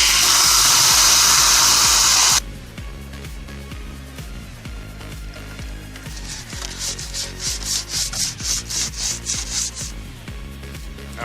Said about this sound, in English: I'm going to be wet sanding under the hood